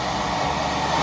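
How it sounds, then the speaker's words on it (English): An old vacuum cleaner running with air blowing from its outlet end as a homemade air conditioner, a loud, steady whooshing roar without pause, close by. "It's an old vacuum."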